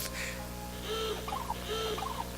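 A chicken in the Ratatouille video game on a farm gives two short bursts of clucking calls over a steady game soundtrack hum, clear and fairly near.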